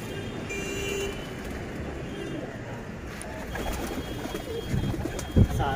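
Pigeons in a home pigeon loft coo softly against a low background hum, with a few faint calls and a brief louder thump near the end.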